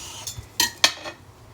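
Grilled nam nueang pork being sliced on a plate gives a few quick knife-on-plate clinks and taps, close and crisp, in quick succession and then trailing off.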